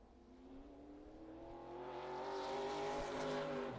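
A race car, the number 25, runs a qualifying lap at Madera Speedway short track, its engine droning steadily and building in pitch and loudness as it accelerates, heard alone without talk.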